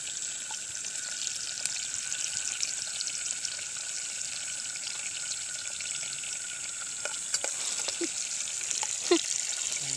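Garlic and onion fry in a pan for adobong kangkong cooked on a farm, a soft, even sizzle with a few light clicks and taps near the end.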